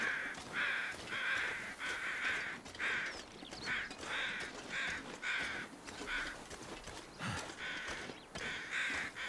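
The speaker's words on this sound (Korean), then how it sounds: "까마귀 소리 들려." Crows caw repeatedly in a video game, harsh calls coming in quick bursts of two or three with short gaps, steady and fairly clear over faint background ambience, no talk.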